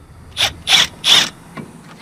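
Impact wrench loosening a brake line at a van's brake caliper: three short, loud rattling bursts in quick succession, then a fainter brief tap.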